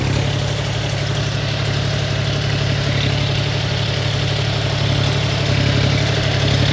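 A New Holland 3630 tractor engine held at a steady raised rev of about 1500 RPM, a loud, continuous low diesel drone with a constant throb and no talking over it.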